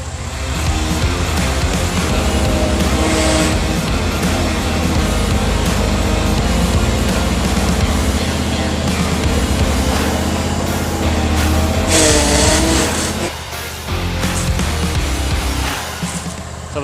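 A truck engine runs steadily and loudly at close range while it edges into a tight spot to move a 1959 Chevy Viking body, with the drone dipping briefly near the end.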